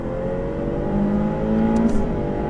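A Ferrari F8 Tributo engine revs steadily and climbs in pitch as it accelerates on a race circuit, a loud continuous drone heard up close from inside the car.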